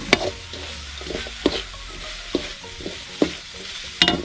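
Chicken stir-fried in a pan over low heat with aromatics for a homestyle Thai dish sizzles steadily, broken by sharp scrapes and clacks of a utensil stirring every half second or so.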